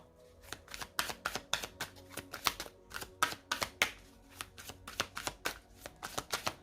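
A deck of tarot cards being cut and shuffled, giving rapid riffling bursts in a steady irregular rhythm, close and fairly quiet, with no voices.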